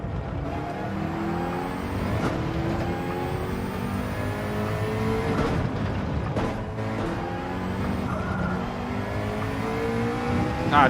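Race car engines roar in Gran Turismo 7 on a final lap, several cars' whining, rising revs layered together with gear shifts and repeated pitch climbs, loud and continuous without speech.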